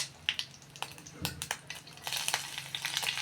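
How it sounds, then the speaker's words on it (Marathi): Mustard seeds crackle in hot oil in a pan: quiet, irregular pops and crisp snaps over a soft frying hiss, growing busier toward the end. "राई पण मस्त तडतडली"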